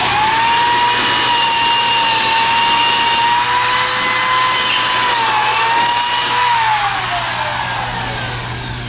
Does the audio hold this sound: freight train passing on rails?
no